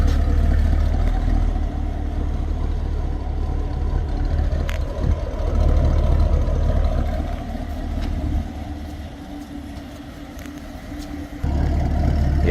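A 2010 Chevrolet Camaro 2SS, procharged with headers and a Corsa exhaust, idling nearby as a steady low engine rumble with slight shifts in level and one drop and return near the end.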